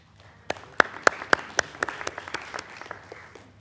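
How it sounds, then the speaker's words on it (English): Audience members at a city council meeting clap, a few sharp, distinct claps growing into a scattered patter of applause that fades out. "Still clapping."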